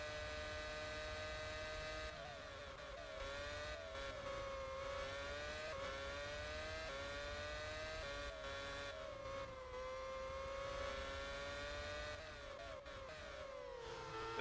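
A 2008 Formula 1 car engine in the Grand Prix 4 racing game, a faint, steady high-pitched whine that rises and falls with repeated gear shifts throughout.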